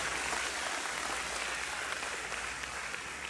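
A church congregation applauds steadily, a continuous wash of many hands clapping at moderate loudness, with no speech over it.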